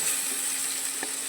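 Small shrimp cooking for chorchori fry in released oil with a steady soft sizzle, broken by a brief scrape of stirring near the end.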